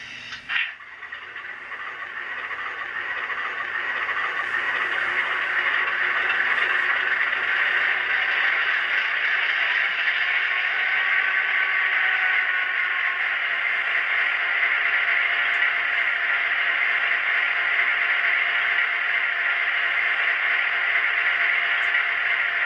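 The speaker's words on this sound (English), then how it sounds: "Alright, we're going to fire the locomotive up." EMD SD9 model locomotive in Nickel Plate Road livery with ESU LokSound DCC sound firing up: a sharp start followed by a steady, loud diesel idle rumble that holds evenly throughout, with no talking.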